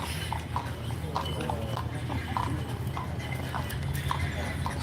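Working horses plod along in the heat, their hooves clip-clopping in a steady uneven walking rhythm over a continuous low rumble, with faint voices nearby.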